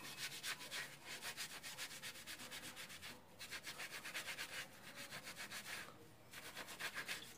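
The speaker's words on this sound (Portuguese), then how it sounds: "Eu tô lavando a panela de inox" A sponge without steel wool scrubs a stainless steel pan coated in polishing paste, giving rapid rhythmic rubbing strokes up close with two brief pauses and no talking.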